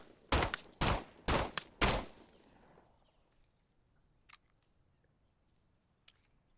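Four sharp, loud gunshots come in quick succession in a VR tactical shooter video game, followed by quiet room tone and a couple of faint clicks.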